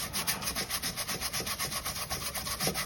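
A stiff brush scrubs a composite or wood deck in quick, regular back-and-forth strokes, close up and steady, with no talking.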